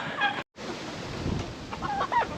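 Hens cluck softly in short bursts against a steady background hiss, with a brief dropout partway through.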